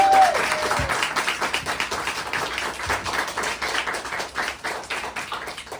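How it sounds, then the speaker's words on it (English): An audience at a public lecture event applauds a guest speaker, with dense, sustained clapping from many hands filling the room. "Please give him a round of applause."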